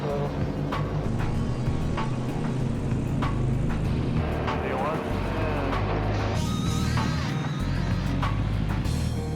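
Aircraft engines roar steadily at takeoff power on runway 09, a loud, continuous drone with rumble, while voices talk over it throughout.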